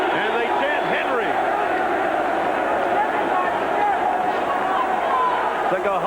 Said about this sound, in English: And they chant Henry.